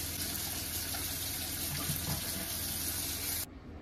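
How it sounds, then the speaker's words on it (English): Sink faucet running steadily while rinsing buildup off a drain stopper, a continuous close hiss of water splashing into the basin, then shutting off abruptly. "After that, I used the sink and I rinsed off the rest of the buildup."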